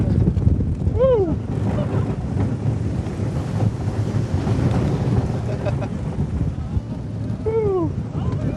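Cheetah Hunt roller coaster launching over a hill, steady loud rushing wind roar throughout, with two brief excited shouts from riders near the start and end.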